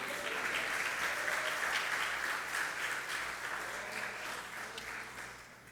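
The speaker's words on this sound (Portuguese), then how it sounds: "Você pode aplaudir o Senhor Jesus?" A church congregation applauds during a Portuguese-language sermon, with dense, sustained clapping that holds steady and then gradually tapers off toward the end.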